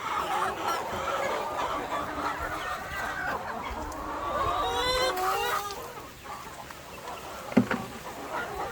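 Chickens cluck and squawk close by in a busy, overlapping chorus, with a sharp knock near the end.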